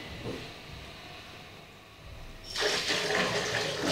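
Water aquatic lettuce plants (water lettuce) being washed, with a quiet stretch giving way to a loud, steady rush of running and splashing water in the second half.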